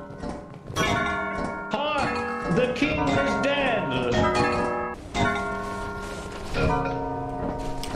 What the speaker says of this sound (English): Stop with the bells, you freaks!